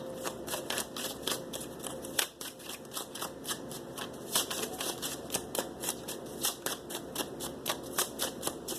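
A deck of tarot cards is shuffled and cut: a rapid, irregular run of crisp card riffles and flicks, close and steady, with no voice.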